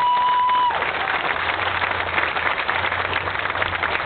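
A crowd applauds volunteers at a Camaro homecoming gathering in Oshawa, Canada: sustained, dense clapping at moderate distance, following a brief steady tone at the start.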